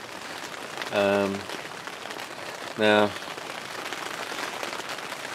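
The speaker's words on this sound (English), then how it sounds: "as you may be able to hear, it is still raining quite bad" Heavy rain falling steadily outdoors beside a lake during a carp fishing session, a continuous hiss throughout, with two short bursts of a voice speaking over it.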